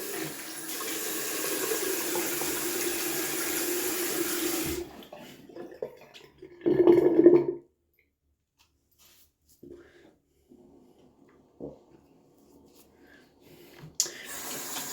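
A bathroom tap runs cold water in a steady stream for several seconds during wet shaving, then shuts off, followed by brief splashes and quiet handling sounds.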